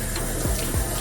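Tap water runs over a scallion as it is washed in a sink, a short steady splashing hiss heard close up with no talking.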